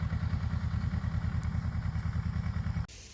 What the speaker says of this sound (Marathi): खोडवा ऊसाच्या बगला फोडण्याचं काम अतिशय चांगल्या पद्धतीने या ट्रॅक्टरनं झालेलं आहे